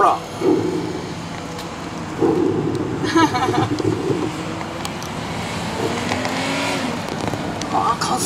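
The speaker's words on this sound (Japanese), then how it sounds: "加速してく、3に上げますよ。" A stock production car driven by a D1 drift driver on a ride-along at the 2019 Tokyo Motor Show: the engine revs rise and fall through gear shifts with faint tire noise, under steady excited talk from the passenger seat.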